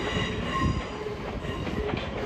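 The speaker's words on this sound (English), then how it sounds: "Here's the train coming" Train pulling into Waverley Station in central Edinburgh, with steady rumbling wheels and faint squealing on the rails, a continuous close, moderately loud rolling sound through the whole moment.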